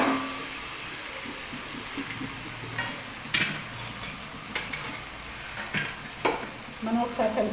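Marinated chicken, seasoned with salt, chili powder and ginger-garlic paste, sizzles in a hot pan while being stirred, with a steady frying hiss broken by intermittent scraping and clinking of a utensil against the pan, close up, no talking.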